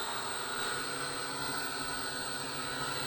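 A brand-new drone capable of about 50 km/h flying nearby, a steady droning whine with a constant tone throughout, loud and unbroken with no voices.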